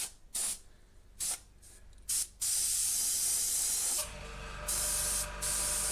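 Short bursts of airbrush air spray hiss on and off in irregular pulses, then a longer steady hiss from the running airbrush compressor during an acrylic pour.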